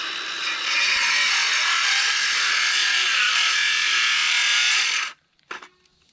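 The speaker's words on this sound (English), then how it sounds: "We'll mark the second one and cut it." A wooden fence post being sawn through, a loud continuous rasping cut held steady for about five seconds before stopping abruptly, followed by a brief knock or clatter of wood.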